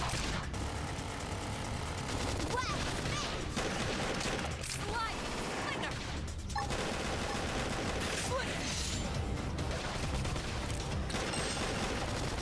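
Gunfire from the mecha video game Xenoblade Chronicles X: a dense, continuous barrage of rapid shots and blasts with mechanical clatter, loud and sustained over the whole stretch, with a voice speaking faintly underneath.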